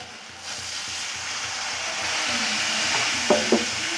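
Water poured into frying ground cumin and coriander masala in a pan for a cauliflower chicken curry, giving a steady sizzle that swells midway, with a couple of brief clinks of a utensil near the end and no talk.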